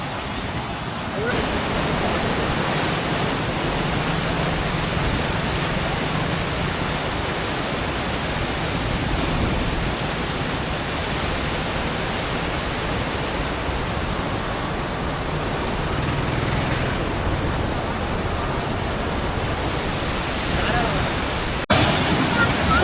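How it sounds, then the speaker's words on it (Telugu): Pamapur pond's weir overflowing after heavy Montha cyclone rain, a steady broadband roar of rushing water that stays loud and unbroken throughout, with faint talk in the background. "పామపూర్ చెరువు మత్తడు ఒక్కరోజు వానకి ఇంతలా మత్తడు వాడడం అయితే ఇది ఫస్ట్ టైం"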